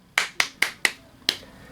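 Five crisp hand claps, four in an even quick rhythm, then a short pause before the last, sounding close and clear against a quiet background.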